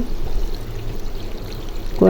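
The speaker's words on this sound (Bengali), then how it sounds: "দেখুন আমি এখন গরম পানি দিয়ে দিলাম" Hot water is poured into a pan of cooking beef tripe, a continuous close pouring rush that swells loudly at the end.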